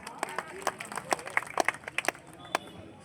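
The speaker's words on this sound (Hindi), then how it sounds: "एक बार ताली बजाइए जोरदार" A wrestling crowd claps in loose, uneven bursts, individual sharp hand claps scattered over a few seconds at moderate distance rather than a sustained roar.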